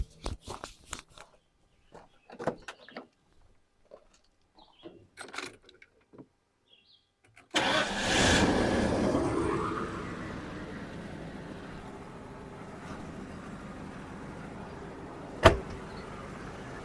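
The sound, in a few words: 1993 Ford F-250 truck engine starting and running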